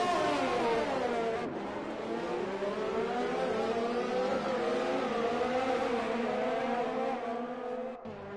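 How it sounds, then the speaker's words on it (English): A train of Formula 1 cars in a racing video game on the Bahrain circuit, engines screaming at high revs in a continuous loud whine that rises and falls as the cars pass close by. "Here's the train of Formula 1 cars developing here."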